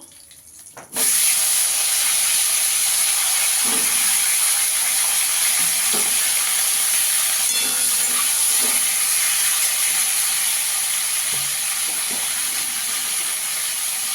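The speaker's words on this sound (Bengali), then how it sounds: "এই তেলে আমি ওলকপিটাকেও ভেজে নেবো।" Kohlrabi hits hot oil with a sudden loud sizzle that settles into a steady, intense frying hiss, with small pops and crackles scattered through it, close and continuous.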